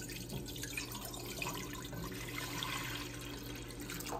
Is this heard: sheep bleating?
no